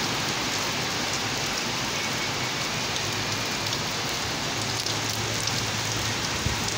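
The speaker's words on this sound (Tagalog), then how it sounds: "Ulan pa more." Steady heavy rain falls on surfaces in a village, a dense, loud, unbroken hiss with no voices throughout.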